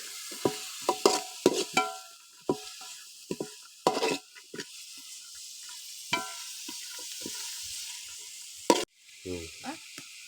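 Carrot, tomato and green chilli frying together for vegetable biryani, stirred with a spoon in a pot: steady sizzle under repeated scraping and clinking strokes, fairly close, with brief bits of speech.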